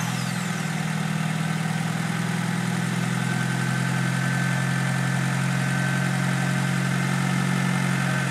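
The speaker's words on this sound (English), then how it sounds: "Jeremy, start this engine for me." A 1998 Honda Civic with a 1.6-liter engine idles up close, holding a steady, even low hum with a smooth mechanical drone throughout and no voices.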